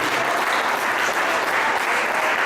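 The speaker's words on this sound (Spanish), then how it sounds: "Gracias por sus nutridos aplausos para Cristo." A church congregation applauds in a brief, dense burst of steady clapping that fills the room evenly from start to finish.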